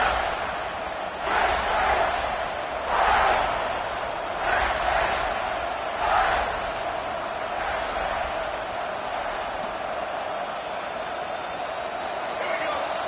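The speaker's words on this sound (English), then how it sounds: "The roar of the crowd trying to fuel this defense to keep them pinned in their own end." Stadium crowd in a College Football 26 game, Ole Miss matchup, a steady broad roar with several swelling surges, loud and continuous throughout.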